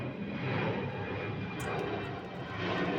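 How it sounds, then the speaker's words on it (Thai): An airplane taking off produces a steady, broad jet engine roar, heard from a distance but filling the whole moment, with no voices over it. "นี่ฮะเครื่องบินขึ้นแล้ว"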